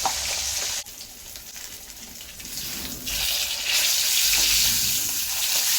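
Pieces of rohu fish fry loudly in a pan as they are turned over, with a steady sizzling hiss that drops briefly and then surges back louder, with clinks from the flipping.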